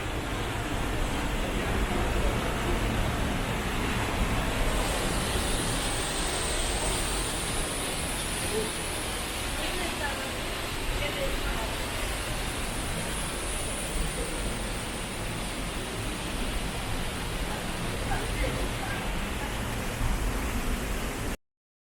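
A steady, loud roar of falling water at the Rhine Falls in Switzerland fills the whole stretch without a break, close and powerful, drowning out any other sound.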